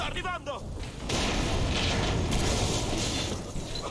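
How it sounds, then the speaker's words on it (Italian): Gunfire in the video game Far Cry 3 as the player shoots at valves, a burst of sharp shots and a sustained loud noisy blast following a short spoken phrase at the start. "Sparo alle valvole."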